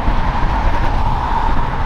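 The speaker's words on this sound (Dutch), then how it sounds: "dat is de eerste keer dat ik een bus zie passeren op alle tijd" A bus passes close by, a loud, steady engine and road rumble that fills the short moment without any talk.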